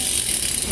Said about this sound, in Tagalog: Grabe yung tunog ng hub. Hub check.